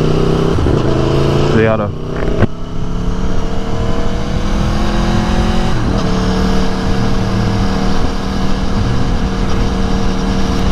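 2018 Aprilia Tuono motorcycle engine running steadily while riding, a loud continuous drone with shifting pitch and heavy wind rush, briefly rising in revs, with a few spoken words over it.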